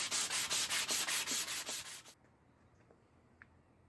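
Large belt sander shaping a wooden carving mallet, with rhythmic rubbing strokes for about two seconds before the sander stops abruptly, leaving a quiet room with a faint tap.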